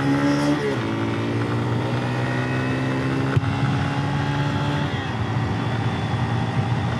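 A Yamaha TW200 trail motorcycle accelerating on a trail, its engine droning loud and close with rising harmonic pitch through gear shifts, steady throughout with no talk.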